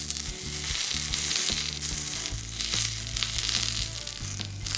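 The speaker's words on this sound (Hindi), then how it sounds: "देखिए बैगन कितनी अच्छी तरह से भुन रहा है" Whole eggplant roasting in a pan for Indian baingan bharta, giving a continuous loud crackling sizzle with a low background hum, close-up and unbroken, no voices.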